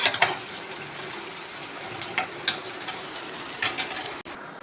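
Food frying in a pan during home cooking, with a steady hiss of sizzling oil, broken by a few brief clinks and stirring sounds, close and fairly loud, with no one talking.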